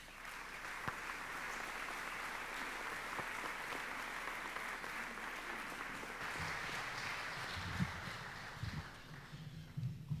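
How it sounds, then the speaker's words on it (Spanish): An audience at a talk on martyrdom and faith applauds to welcome a speaker, producing a continuous, even wash of clapping from many hands that sounds somewhat distant and quiet and lasts about ten seconds. "Lo recibimos con un aplauso."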